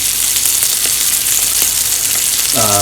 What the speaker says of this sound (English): I'm going to turn it over and let the bread finish toasting a bit and hope the heat cooks the other side enough